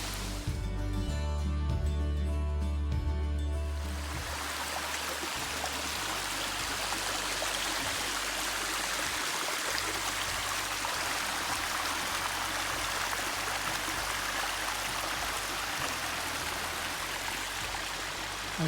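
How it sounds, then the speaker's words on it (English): A mountain brook with small waterfalls on a summer hike in Acadia rushes steadily, a broad continuous wash of water up close, after a few seconds of other sound at the start. "apparently it's going to follow this brook with all these falls all the way up"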